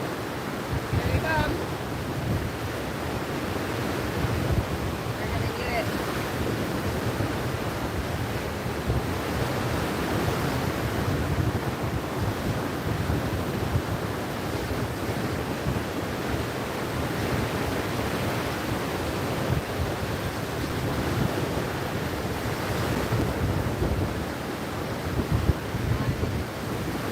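Rough ocean surf and strong wind on a beach during surf fishing, a continuous roaring wash of breaking waves with wind buffeting the microphone, loud and steady throughout.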